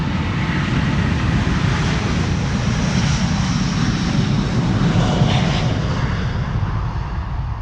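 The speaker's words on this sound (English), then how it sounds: "Delta Airlines Flight 57 to Salt Lake City, an A330neo." A Delta Airlines Airbus A330neo jet departing Amsterdam Schiphol Airport, a loud continuous roar of engines at takeoff power, steady and broad throughout.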